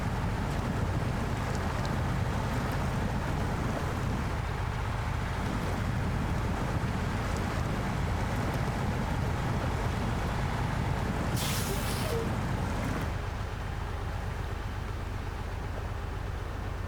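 A truck engine in Snowrunner grinds steadily in low gear, a dense, continuous low rumble with wind-like noise that holds throughout, briefly joined by a hissy burst near the end.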